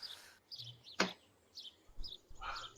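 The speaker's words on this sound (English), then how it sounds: "we're listening to fucking birds" Ambient birdsong plays as background during a tabletop fantasy game session, with scattered faint chirps and short tweets spread across the moment, plus a sharp brief click near the middle.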